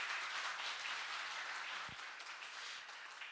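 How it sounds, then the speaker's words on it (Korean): Audience applause after a corporate forum lecture in a meeting hall, a steady, dense wash of clapping that holds at even loudness for the whole stretch, with a single brief low thump partway through. "큰 박수 부탁드립니다"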